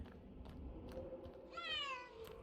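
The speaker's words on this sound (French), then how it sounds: "Oh putain, un chat." A cat in the video game BrokenLore: Low gives a single drawn-out meow late in the moment, set against a dim, murmuring game ambience.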